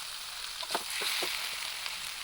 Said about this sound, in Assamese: আকৌ তাৰপিছত অকণমান ভাজিব লাগিব জিৰা গুড়া দিয়াৰ পিছত।